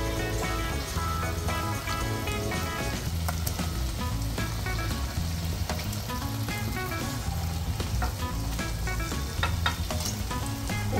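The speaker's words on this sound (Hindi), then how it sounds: "अब अपने चिकन को भी इसमें ट्रांसफर कर देंगे।" Chicken frying with lemon juice in a pan, a steady, dense sizzle filling the whole stretch with occasional crackles and pops, close and fairly loud, with no voices.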